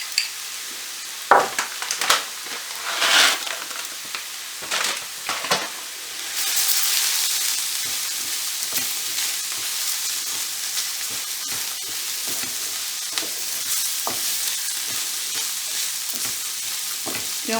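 Unwashed risotto rice sweating in a hot pan for scallop risotto: a few sharp clatters and scrapes as the grains go in, then a steady close sizzle with occasional stirring taps.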